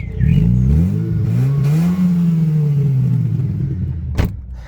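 A cheap second-hand Volvo S40 with a faulty exhaust revs in one long, throaty swell that rises and slowly falls, loud and close, ending with a short sharp clack.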